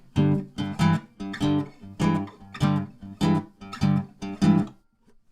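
A guitar with a capo strums a bluesy E-shape chord in a steady, choppy rhythm, about eight sharp strokes with brief pauses between, then rings out and stops.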